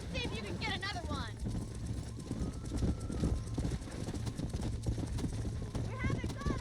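Horse hooves gallop in the Red Dead Redemption video game, a steady clip-clop rhythm running throughout under a voice urging the horse on, with the occasional whinny.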